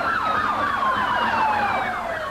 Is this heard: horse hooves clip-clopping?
no